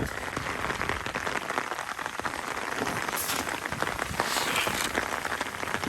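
Rain falls steadily across a yard, a dense, even hiss of drops striking surfaces that continues without a break and with no voices.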